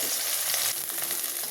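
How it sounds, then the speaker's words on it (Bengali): Soybean chunks fry lightly in hot oil just used for potatoes, giving a steady, close, bright sizzle with a small stir-like shift midway. "এবার এই তেলেই আমি সয়াবিনটাকে হালকা করে ভেজে নেব।"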